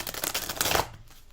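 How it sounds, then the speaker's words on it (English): A deck of cards is riffled in a quick run of crisp rapid flutters, close and fairly quiet, stopping sharply before a short silence. "I'm going to shuffle."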